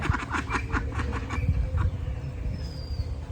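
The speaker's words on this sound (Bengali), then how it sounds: "পুকুরের পাড়ে কতগুলো হাঁস" Several ducks on a pond bank quack in quick, repeated bursts close by, their calls overlapping in a busy outdoor scene.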